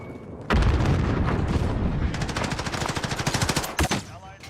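Grenade explosion and gunfire in a classic Call of Duty video game, a heavy boom followed by rapid, loud machine gun bursts with rhythmic shots and a final blast near the end.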